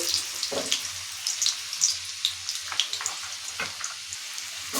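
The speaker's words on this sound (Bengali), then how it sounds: "প্রথমে আলু দিয়ে দিচ্ছি" Potatoes hitting hot oil in a home kitchen pan, giving a steady close sizzle and crackle with scattered pops and spits, no talking.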